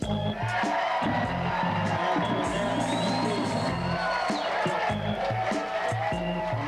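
An audience at an evening music show cheers and whoops loudly in a steady, dense roar, with scattered shouts and some music and voices underneath.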